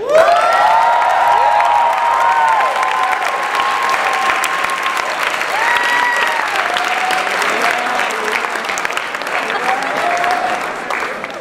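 Large crowd of volunteers at a team leader briefing bursts into loud, sustained clapping with scattered cheers and whoops, steady throughout.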